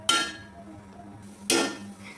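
A metal plate clinks down onto a pan of mutton twice, two sharp bright contacts about a second and a half apart against a quiet kitchen background.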